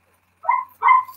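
Dogs bark outside, two short sharp barks in quick succession standing out against a silent background, fairly close and loud.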